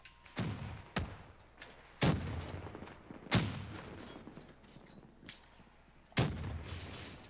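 A grenade blast and gunfire ring out in a tactical shooter video game as several sharp, loud reports spaced over a few seconds, each tailing off in a short echo.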